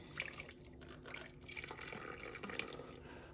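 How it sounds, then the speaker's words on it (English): Water is pushed through a household drain pipe, a soft, fairly quiet gurgle and splash with trickling and dripping textures that swell and ebb over a few seconds, no voices. "Let's see what happens if I just push a lot of water through here."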